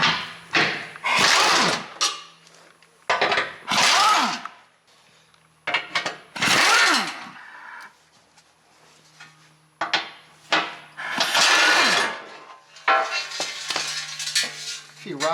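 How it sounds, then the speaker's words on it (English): A 13mm socket and ratchet working the skid plate bolts loose on a Jeep JL Wrangler, several bursts of close, rapid clicking ratcheting separated by quiet pauses, with no voices. "I'm going to go ahead and take off the skid plate that you see here, or the air dam"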